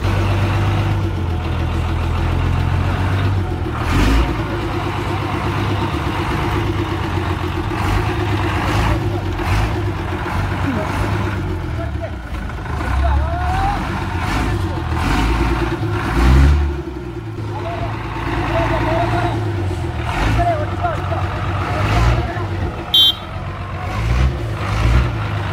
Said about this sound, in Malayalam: അങ്ങോട്ടാണ് വണ്ടി കയറ്റി ഇടുന്നത് കേട്ടോ.